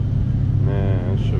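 A Chevrolet Bel Air rolls out of a car show with a low engine rumble that rises briefly into a rev. Someone talks over it nearby.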